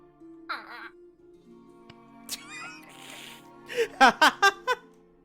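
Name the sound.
imitated seagull squawk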